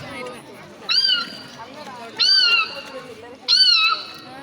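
A child imitates kittens meowing, giving three short, high, thin mews in a close voice that come at an even pace.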